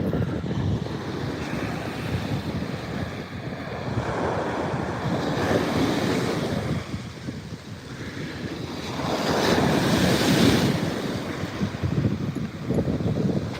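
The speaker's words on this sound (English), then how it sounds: "Just listen to these ocean waves," Ocean waves roll and crash continuously with gusting wind buffeting the microphone, swelling louder in surges, no voices.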